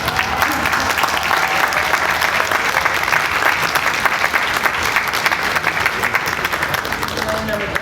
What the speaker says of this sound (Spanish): me gustaría que ustedes se den un aplauso a ustedes mismos